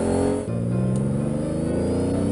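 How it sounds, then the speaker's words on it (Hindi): A monster truck's engine gives a steady, deep, near rumble as it rolls toward a ditch, with a brief dip in level early on and no voices. "तभी उसने देखा कि मॉन्स्टर ट्रक खाई की ओर जाने लगी।"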